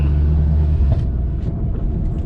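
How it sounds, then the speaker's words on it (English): A Nissan Altima SE-R running an ECU flash rumbles nearby with a deep, loud exhaust note, breaking into a quick run of irregular pops and crackles toward the end. "The car does have an ECU flash, that's why it's popping and banging like that."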